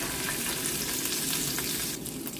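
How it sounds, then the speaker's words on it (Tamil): Curry leaves and green chilli fry in hot oil in a pan while being stirred, giving a dense, continuous sizzle with light scraping from the stirring. "இப்போ இதை நல்லா மிக்ஸ் பண்ணி விடுவேன்."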